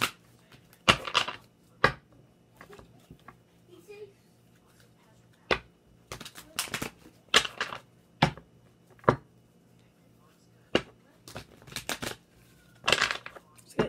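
Tarot cards being shuffled and handled nearby, in irregular bursts of crisp riffling and slapping, with quiet gaps between them.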